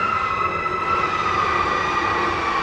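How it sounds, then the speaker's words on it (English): A steady, wailing siren with sustained tones rises above a constant low rumble of traffic, loud and continuous throughout. "Looks like the sirens are coming this way."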